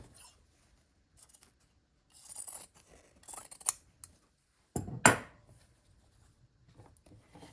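Scissors trimming quilt fabric, quiet intermittent snips and soft scraping against a near-silent background, with one louder, longer cutting stroke near the end.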